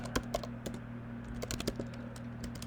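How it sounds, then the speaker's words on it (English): Typing on a computer keyboard while entering code for a serverless Lambda function: a run of close, crisp key clicks at uneven intervals over a steady low electrical hum, with no talking. "I want to make sure I type this right"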